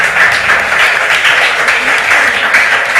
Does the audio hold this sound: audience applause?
yes